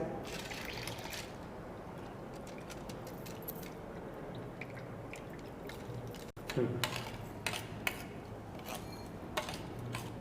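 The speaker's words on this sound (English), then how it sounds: "Now we need to strain rice" Cooked rice for doodh pak is strained, water trickling and dripping softly at close range with a few squishy bursts, after a quieter stretch.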